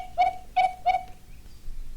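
Three evenly spaced, clear hooting bird calls ring out close and distinct over a quiet background, followed by silence, with no talk.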